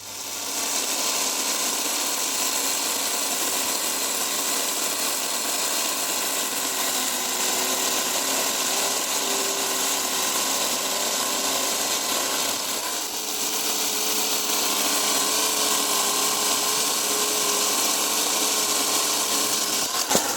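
AL-KO CS 1825 cordless chainsaw cutting wood, a loud continuous buzzing whine held close for about twenty seconds with only a slight dip midway and no talking.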